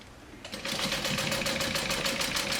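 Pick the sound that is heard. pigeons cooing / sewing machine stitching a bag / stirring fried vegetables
sewing machine stitching a bag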